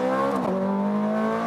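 Ferrari 430 Scuderia engine at full throttle on the Las Vegas Motor Speedway track, a loud, close, continuous high-pitched howl heard from inside the car, pitch dropping briefly as if shifting, then climbing again.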